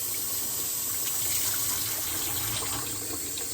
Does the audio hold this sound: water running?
yes